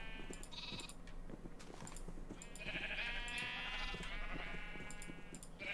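Minecraft sheep bleat repeatedly in short, nasal cries, several overlapping calls at fairly even intervals, fairly quiet and with no talking over them.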